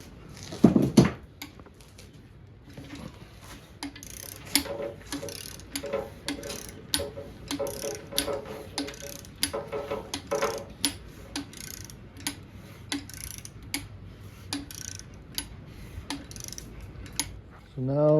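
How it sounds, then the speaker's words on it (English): A torque wrench tightens bolts on a Honda K24 engine, first to a set torque and then through an extra 90 degrees. Sharp ratcheting clicks come in sparse, uneven bursts over a quiet workshop background. "torqued everything to 22 and then an additional 90 degrees with this torque wrench"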